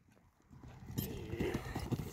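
Hooves of a horse for sale in Aksy strike in a quick, rhythmic trotting clip-clop close by. The sound grows louder after a quieter start, with faint voices in the background.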